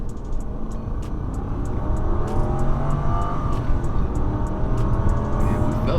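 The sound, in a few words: 2001 Lexus LS430 car accelerating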